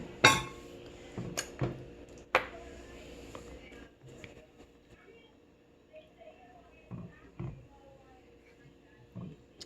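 A spoon stirs beef in sauce in a pot, making scattered clinks and scrapes against the pot, some sharp and loud, others soft, with quiet gaps in between.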